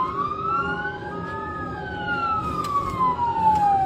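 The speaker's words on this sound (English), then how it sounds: "Go ahead and uh, reactivate your lights and sirens there, guys." A police siren wails steadily during a chase after a 12-year-old driving a stolen forklift, its tone rising and falling loud and close over road noise, with faint radio-style chatter in the background.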